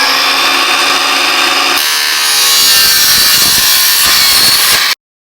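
A power saw cuts through a section of lighting track in one continuous loud, harsh whine, right up close, stopping abruptly at the end.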